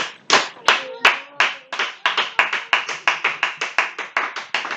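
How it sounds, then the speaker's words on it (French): A congregation claps hands in unison to acclaim Jesus in church, starting a little ragged, then settling into a steady, brisk rhythm of sharp, close claps without talk. "on va acclamer Jésus des mains en même temps"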